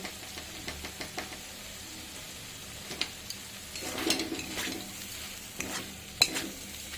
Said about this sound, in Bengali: দিয়ে আলুটা আর একটু ভালোভাবে কষিয়ে নেব